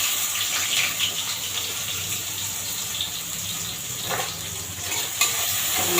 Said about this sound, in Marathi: आता तेल टाकलं तर कांदा टाकून घेते मी